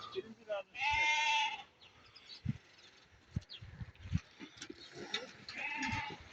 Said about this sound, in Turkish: Kuzulara bak bunlar ana baba.